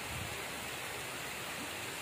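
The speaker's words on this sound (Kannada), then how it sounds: "ಆ್ಯಸ್ ಯೂಶ್ವಲ್ ಮಳೆ ಬರ್ತಾ ಇದೆ" Steady rain falling outdoors, a continuous soft broadband wash of drops with no distinct individual hits, fairly faint and even throughout, with no talking.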